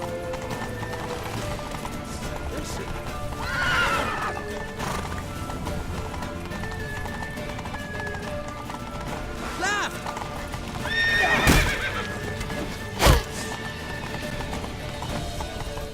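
Horses in The Witcher 3 galloping with steady clip-clop hoofbeats amid game background noise, with several loud neighs and whinnies rising above them. Voices shout at times.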